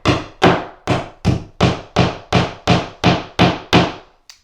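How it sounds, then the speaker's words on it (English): Hammer driving a wall anchor into a drilled hole in a bathroom wall, ten evenly spaced, loud, close blows in a steady rhythm, each with a short ringing decay, no voices. "then you're going to start hammering"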